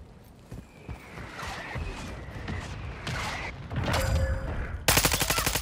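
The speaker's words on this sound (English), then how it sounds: "Mortar strike inbound." Gunfire and mortar strike explosions in a shooter video game, with scattered shots, mechanical clicks and a dense burst of rapid fire near the end, moderately loud.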